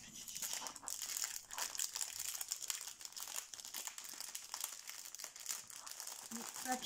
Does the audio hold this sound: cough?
no